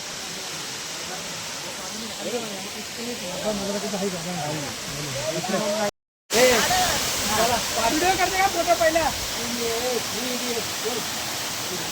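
A tall two-tiered waterfall with people standing beneath it gives a steady, broad hissing roar throughout. Someone talks over it, and the sound cuts out briefly midway.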